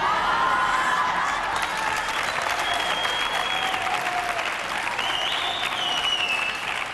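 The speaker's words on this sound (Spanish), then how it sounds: "Un fuerte aplauso para Gonzo." Studio audience applause on a Spanish television talk show, a dense, sustained roar of clapping that holds steady and loud for the full stretch, with faint whoops and cheers mixed in.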